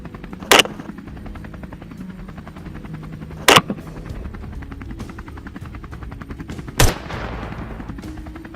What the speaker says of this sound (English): the pilot swiftly lowers the helicopter, closing in on the targets